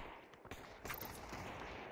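Distant gunfire in the VR battle royale game Population: One, a dense crackle of shots spread across the whole stretch with no clear pauses, sounding far off and steady.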